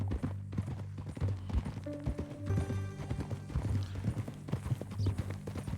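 Horse hooves clip-clop in Red Dead Redemption 2, a steady trotting rhythm close by under game music and ambient tones, with no speech.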